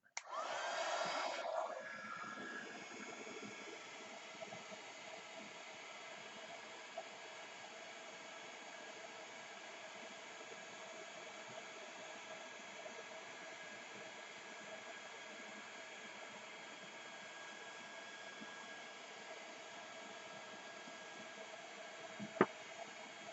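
A heat tool reheating embossing powder on an embossing folder project, a faint, continuous airy blower hiss that runs unbroken for over twenty seconds, with one brief sharp click near the end.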